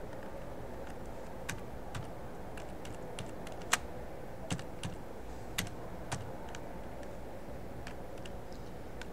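Code is typed on a computer keyboard as steady, fairly soft key clicks, with a few louder isolated taps standing out over a constant low background hum, and no voice.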